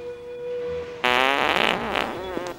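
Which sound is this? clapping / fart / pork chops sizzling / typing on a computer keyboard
fart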